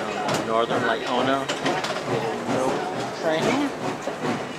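A steam train on the Lumberjack Steam Train line in Laona, Wisconsin rumbles along with a steady rolling clatter, while people talk loudly over it throughout.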